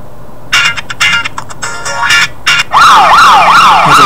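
Phone ringtone chimes previewed from a settings menu, a few short loud electronic bursts followed by a warbling, siren-like repeating tone, close and clear.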